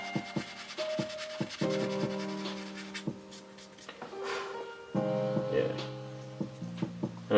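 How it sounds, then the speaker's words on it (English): Soft rubbing strokes of light hand sanding on a painting come in short bursts, quiet and close, under sustained background music with a few sharp ticks. "Just a little light sanding."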